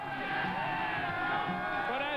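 A football stadium crowd at an XFL game at Pac Bell Park roars in a continuous swell, with a broadcast announcer's voice layered over the cheering.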